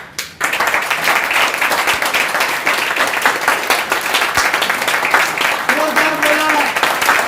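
An audience at a business leaders' training meeting claps in a dense, sustained burst of applause throughout, with a voice rising briefly over it near the end.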